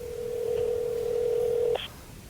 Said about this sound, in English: Can you hear that? Can you hear the phone?